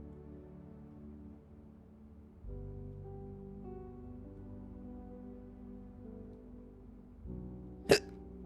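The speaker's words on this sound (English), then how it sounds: "God, I have hiccups again" Someone hiccups once, a single short sharp burst close to the mic near the end, over a low steady game-music background with no talk.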